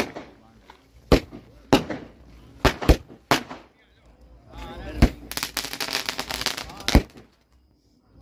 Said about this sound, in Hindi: ये हो रहा आतिशबाजी शुरू, इसका काफी देर से वेट कर रहे थे।